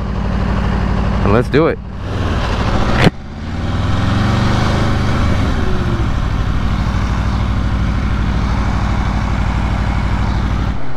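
Close by, a stock 2022 Aprilia RSV4 Factory 1100 motorcycle idles, then accelerates hard on a marked road run from 60 to 130, its engine note rising steeply before settling into a sustained roar. A rider speaks briefly at the start.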